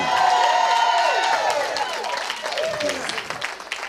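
Audience applause and clapping at a comedy show, a steady crowd sound that gradually thins out, with scattered cheers and a bit of talk mixed in.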